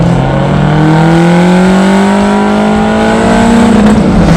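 Lotus Esprit V8 engine revving loud and close, a continuous rising howl as it climbs through the revs under acceleration, with no voices.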